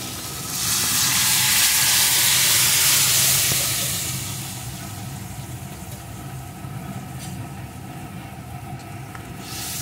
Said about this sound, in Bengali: এখন আমি পুরো তরকারিটা এর ভিতরে ঢেলে দেব।